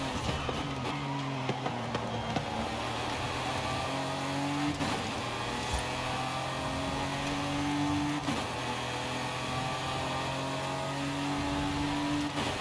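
Car engine in the racing game Forza Horizon 5, a steady loud drone with rising gear-shift tones that repeat every few seconds as the car accelerates, with no talking.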